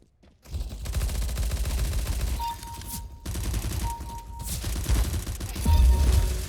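Gunfire rattles in a Counter-Strike: Global Offensive match, with dense bursts of automatic shots in close, loud volleys, short gaps between them, and a few electronic game tones mixed in.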